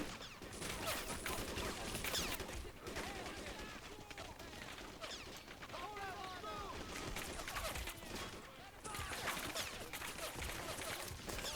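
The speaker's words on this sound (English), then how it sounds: "Seems like both of them are just shooting each other in the wall" Fairly faint, continuous gunfire crackles in an urban battle in the video game Men of War Assault Squad 2 as a US–Russia firefight goes on, with dense overlapping shots throughout and some talk.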